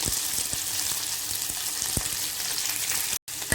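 Sliced large onions sauté in a pan for onion chutney, giving a steady close sizzle with a few soft stirring knocks and a brief cut-out near the end.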